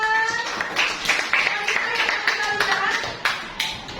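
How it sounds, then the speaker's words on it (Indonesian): A classroom of students claps for a classmate, a burst of sharp, scattered hand claps close by, with voices chattering over it. "Tepuk tangan buat Juan."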